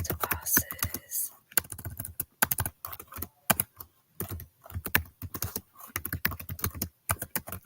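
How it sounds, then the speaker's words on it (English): Steady computer keyboard typing on a Chromebook during a late-night live stream, with clusters of sharp key clicks in irregular bursts and brief pauses, fairly close and moderately loud. "Sorry if you can hear me typing."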